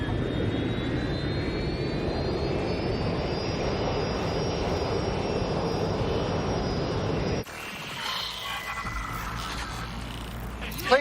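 An airplane engine drones in the Watch Dogs Legion video game, a steady loud roar with a rising whine that holds for several seconds before cutting to a quieter, thinner hum.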